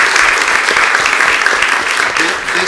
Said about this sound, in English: So a big round of applause to both teams.